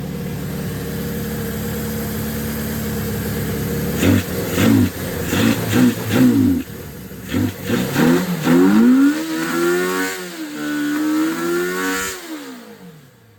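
A Suzuki GS550 motorcycle engine idles steadily, then is blipped through a series of sharp revs that rise and fall, ending with a long rising and falling rev before settling, loud and close with no talk.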